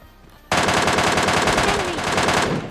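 Automatic gunfire in the mobile video game PUBG Mobile Lite: a short quiet lead-in, then one loud, rapid, continuous burst of shots lasting about two seconds.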